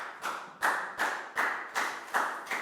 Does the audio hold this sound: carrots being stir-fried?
no